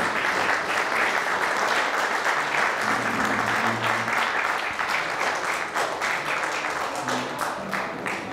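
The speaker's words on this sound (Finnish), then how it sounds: "Hyvät aplodit heille." Applause from an audience at a 60th-anniversary celebration of a Finnish intellectual-disability support association, a sustained broad wash of clapping with faint tonal sounds mixed in, slowly easing toward the end.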